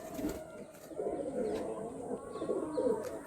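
Madrasi high-flying pigeons coo in a steady, low, throaty burble that repeats through the clip, close by, with faint chirps from other birds behind and no talk.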